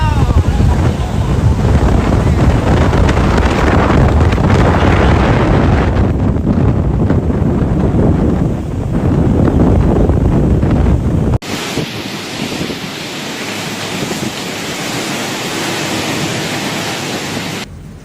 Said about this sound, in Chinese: 在台风剑鱼经过时，三亚各区都出现了14级以上的大风